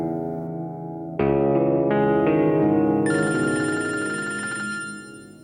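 A phone ringing on an outgoing call in a Pakistani TV drama, electronic ringtone tones rising in steps over several seconds, loud and close, with no voices.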